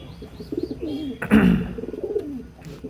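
Pigeons in a breeding loft coo in soft, rolling low calls, close and clear, with a brief louder burst of rustling or wing noise partway through.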